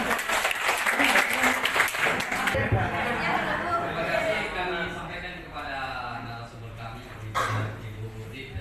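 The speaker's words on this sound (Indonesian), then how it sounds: "Mari kita kasih aplaus bersama-sama." Audience applause at a community cadre training session, a dense burst of clapping from a crowd that fades after a few seconds into murmuring chatter with some voices.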